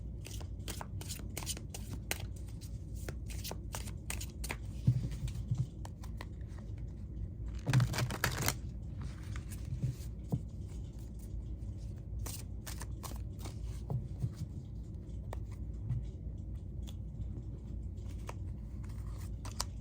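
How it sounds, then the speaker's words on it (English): Tarot and oracle cards are shuffled and laid down in steady rapid riffles and soft flicks, close up, with a brief louder burst of shuffling partway through and no talking. "So let's get some tarot cards down, and then we'll throw down some more oracle cards for confirmation."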